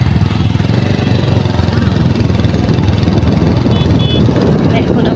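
A motorbike engine droning steadily while a rider cruises during an Eid outing, loud and close with a constant rumbling buzz and wind, and people talking over it.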